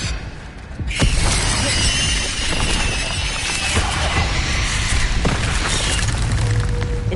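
An Incendio fire spell is cast in Hogwarts Legacy, a sudden loud whooshing burst followed by a sustained crackling roar with sharp cracks and impacts throughout.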